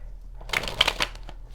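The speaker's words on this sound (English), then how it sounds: "Let me shuffle it again." A deck of tarot cards being shuffled by hand, one short riffling burst of close, crisp card flutter lasting about a second.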